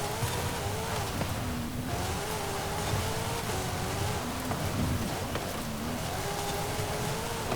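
A 2023 Nissan Z in Forza Horizon 5, swapped to a much larger engine with two extra cylinders and over twice the displacement, driving off-road: a steady, loud engine drone whose revs rise and fall throughout, with no talking.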